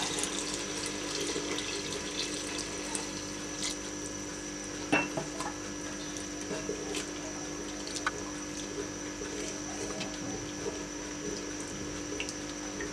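Half a litre of fresh milk poured into a clay pot for salty-sweet matka kheer, a soft, steady liquid trickle running quietly for several seconds with one faint knock partway through.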